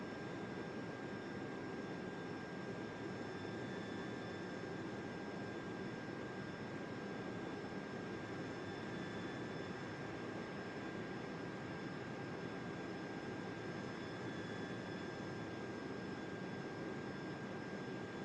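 A Delta Airlines jet lands in Microsoft Flight Simulator 2024 with a steady, faint engine roar and a thin whine held evenly throughout, no voices.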